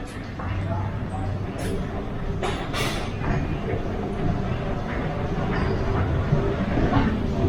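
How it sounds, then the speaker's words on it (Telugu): Ambient noise inside a large underground metro station in Thailand, a mall-like concourse, with a steady broadband rumble of machinery and passing trains and people talking throughout. "ఇప్పుడు మనం మెట్రో స్టేషన్ అసలు చూపిస్తాను మీకు."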